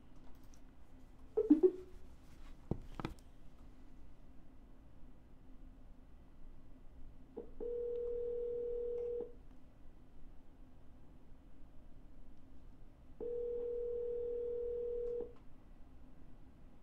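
Phone call to a seller: a few quick clicks of dialing are followed by two separate telephone ring tones, each a steady electronic tone about two seconds long, heard alone in a quiet room.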